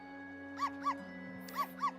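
A dog barks in the Professor Layton vs. Phoenix Wright video game, giving four short, light yips in two quick pairs over a quiet, sustained background music drone.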